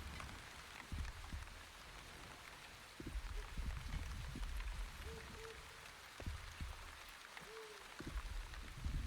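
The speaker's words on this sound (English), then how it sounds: "Yeah, it do be raining." Rain pours steadily outdoors, a continuous hiss of drops striking surfaces with scattered louder splashes and patters nearby, no voices.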